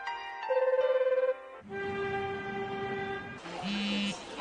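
A cartoon telephone rings with a rapid trilling bell, followed by other bright tonal beeps and horn-like toots in the animated soundtrack, moderately loud with no talking over it.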